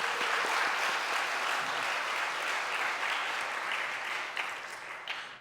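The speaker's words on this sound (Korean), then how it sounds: "우리 박수 한번 보내드려야 됩니다." A church congregation at a Sunday afternoon service breaks into sustained, dense clapping from many hands, loud and even throughout, easing slightly toward the end.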